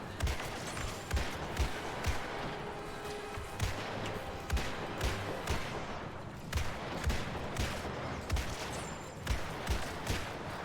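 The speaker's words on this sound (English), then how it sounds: "unlimited bullets in this here musket" Space musket fire in the video game Star Wars Battlefront II (2017), a rapid series of punchy shots repeating in regular bursts over a dense battle background, close and steady.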